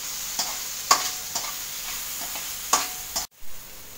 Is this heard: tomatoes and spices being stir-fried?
yes